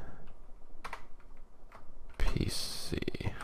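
One-handed typing on a computer keyboard during a Windows 7 setup in VirtualBox: a few sparse key taps, then a denser run of clicks, close and fairly clear, with no speech.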